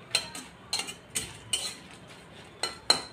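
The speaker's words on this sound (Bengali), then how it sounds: "শুকনো মরিচটা ভেজে নেই" Dried red chillies are fried and stirred in a pan, heard as several sharp metallic scrapes and clinks of a spoon against the pan over a faint sizzle.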